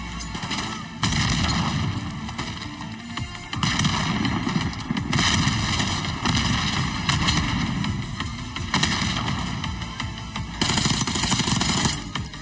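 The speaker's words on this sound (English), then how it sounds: "Tossing grenade." Heavy blasts and rumbling gunfire in the video game Call of Duty Black Ops 6, a grenade going off amid repeated loud bursts of dense explosive noise, close and sustained with no talk.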